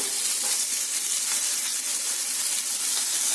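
Onions, coconut, ginger, garlic and green chilli sauté in a hot pan for a mushroom gravy, giving a loud, continuous sizzle and hiss close up, with no talking.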